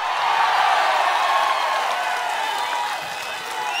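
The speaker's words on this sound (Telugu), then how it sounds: "సిద్ధమైతే గట్టిగా చప్పట్లు కొట్టండి." Loud, dense applause from a large crowd at an outdoor political public meeting in Tadikonda, holding steady for several seconds and easing slightly toward the end.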